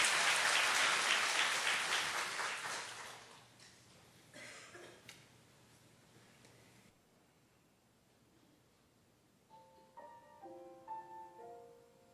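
A congregation applauds before a worship song at a church service, loud dense clapping that fades away within a few seconds, followed by quiet room tone and soft instrumental notes.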